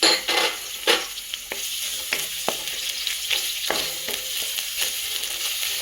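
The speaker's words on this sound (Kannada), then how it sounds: "ಎಣ್ಣೆ ಕಾದಿದೆ, ಈರುಳ್ಳಿ ಹಾಕತ್ತಾ ಇದ್ದೀನಿ" Chopped onions hit hot oil in a pan for mushroom masala, sizzling and crackling steadily with sharp spatters and stirring clicks, close and alone without talk.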